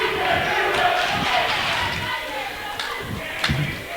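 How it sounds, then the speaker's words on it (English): A student cheering section roaring at a girls' basketball region championship game in a gym, a loud continuous crowd noise with yells and shouts swelling throughout. "Winter cheering section in fine form tonight."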